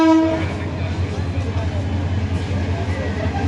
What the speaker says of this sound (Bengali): আপনারা দেখছেন ইঞ্জিন চেঞ্জ হচ্ছে।